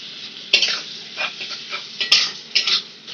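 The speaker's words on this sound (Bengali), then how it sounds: "পেঁয়াজের সাথে নুন চিনি ভালো করে নাড়া" Onions with salt and sugar are stirred in a pan for a prawn curry, with sharp metal scrapes and clinks coming in an uneven rhythm, close by, over a faint background sizzle.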